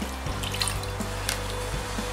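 Alcohol vinegar is poured into a pot holding water to make a blanching brine, a close, steady liquid splash with a few small bumps as the pour shifts, no voices.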